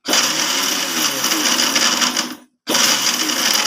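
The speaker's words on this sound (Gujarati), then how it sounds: "થોડુંક જાડું લાગે છે તો આપણે 1 થી 2 વખત થોડીક વાર માટે પાછું મિક્સર ચલાવી લઈશું" A kitchen mixer grinder whirs loudly as it grinds homemade pav bhaji masala spices, cutting out briefly for a moment before roaring back up to full speed.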